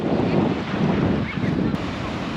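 Sea waves at Hot Water Beach in New Zealand, a continuous rushing surf wash mixed with heavy wind buffeting the microphone, steady and fairly loud throughout with no talking.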